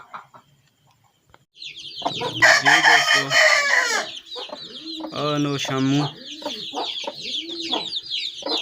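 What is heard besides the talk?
hen clucking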